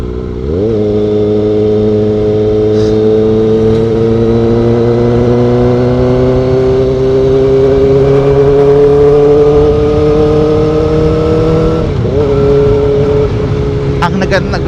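Kawasaki ZX4RR motorcycle engine revving high and accelerating along a straight road, a loud, close, rising whine with a brief drop in pitch as it shifts near the end.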